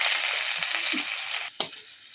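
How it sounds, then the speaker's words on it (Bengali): Onion frying in oil in a wok crackles with a bright, steady sizzle, and a couple of brief scraping stirs stand out, one sharper knock near the end. "তেলে পেঁয়াজটা ভাজা হতে হচ্ছে"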